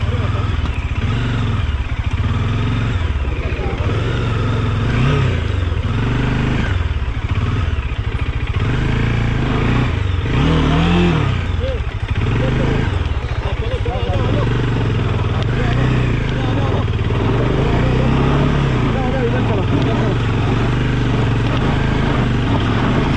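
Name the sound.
motorcycle crossing a river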